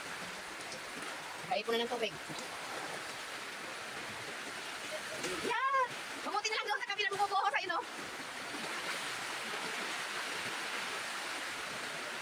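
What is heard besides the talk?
heavy rain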